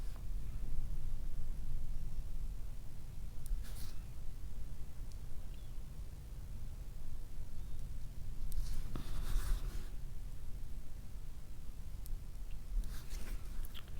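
A biro pen moves across paper in a junk journal, a faint, soft scratching that comes in short bursts with pauses in a quiet room.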